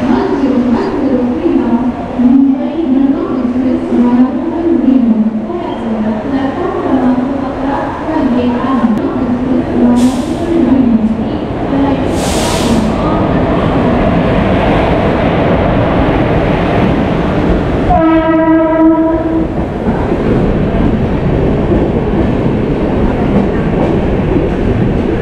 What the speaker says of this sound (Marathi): 7:40 फायनली ट्रेन आलेली आहे.